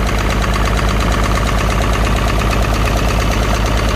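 A Farmall tractor's 282 engine running steadily and loudly up close, with an uneven, misfiring rhythm in its exhaust beat.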